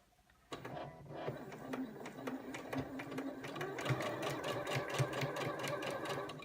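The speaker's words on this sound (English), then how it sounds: "I like to keep my needle at the bottom in the fabric actually, and then let the machine work" A sewing machine stitches fabric with the needle kept down, starting abruptly and running in a fast, steady mechanical rattle that grows slightly louder, close and alone.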